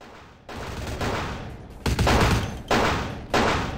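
Enemy gunfire in Vampire The Masquerade Bloodlines comes as loud, close bursts of shots, several sharp volleys in quick succession, each one cutting off abruptly before the next.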